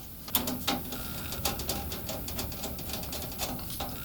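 Small screws being driven into a PC case during a computer build, heard as a close, quiet series of irregular mechanical clicks and ticks.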